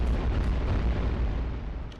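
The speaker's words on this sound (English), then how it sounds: "Cannons are picking them off." Cannons fire at enemy units in the war strategy game iBomber Defense, set in Western Europe, producing a dense, low rumbling boom that fills the moment at moderate loudness before fading slightly.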